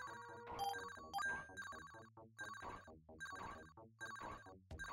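A telephone ring from the Sega Genesis game James Pond or Jelly Boy plays as a busy chiptune jingle, repeated bright trilling bursts in quick rhythmic clusters, alone without speech.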